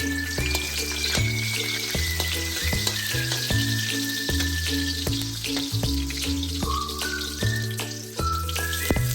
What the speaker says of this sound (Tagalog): At kapag mainit na ang mantika, ilagay ang bawang. Isunod na ilagay ang luya.